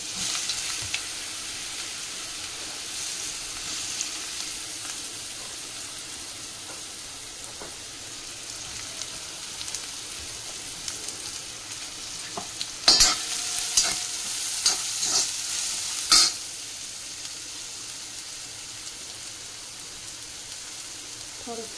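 Chopped ridge gourd hits hot oil with tempering in a pan and sizzles steadily, with a burst of louder scraping and stirring near the middle and fainter crackling frying before and after; no one talks.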